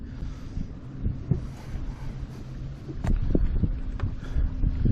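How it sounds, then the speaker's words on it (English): Wind buffets the microphone in low rumbling gusts while bass fishing, growing stronger toward the end, with a few faint knocks and thumps underneath. "it is windy today"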